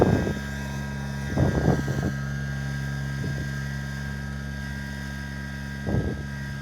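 A Kubota BX subcompact tractor plowing: a low, steady engine drone with tonal hum runs throughout, broken by a few clanking, scraping bursts of machinery working close by.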